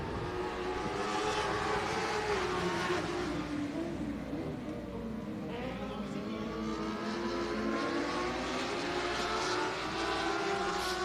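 Dwarf cars racing on a track at a nationals qualifying night, a dense, continuous engine roar with overlapping revving and passing cars, loud and sustained throughout.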